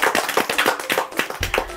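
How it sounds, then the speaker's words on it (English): Small group clapping together in a church children's show, a scattered patter of handclaps lasting under two seconds, fairly close and moderately loud. "Let's clap for ourselves."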